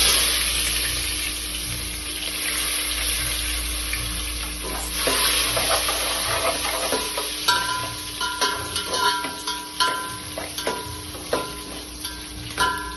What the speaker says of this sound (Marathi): कांदा 1 मिनिट भाजायचा।